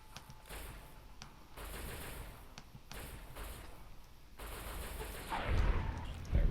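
Bursts of gunfire in the Fallout New Vegas game, several separate rapid volleys spaced apart, moderately loud over a dull background, building toward a heavier impact at the end.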